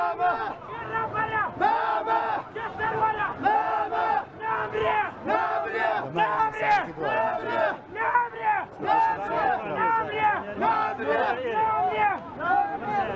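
In Sulaymaniyah, a huge crowd mourning Mam Jalal roars and shouts in repeated rhythmic bursts, many voices chanting together loudly with short pauses between cries.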